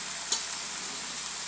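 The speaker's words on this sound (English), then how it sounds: "I'm going to give it a nice stirring" Strained bacalao cod being stirred in a hot pan, a steady sizzle with one soft scrape of the spatula early on, close and alone.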